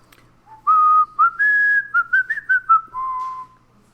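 A person whistles a short tune in a classroom. Clear, close, sliding notes run in quick phrases for about three seconds, with a longer final note and nothing else audible.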